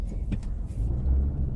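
Inside a moving car, a low, steady road rumble fills the cabin, quiet and droning, with a few soft clicks and knocks near the start and no talking.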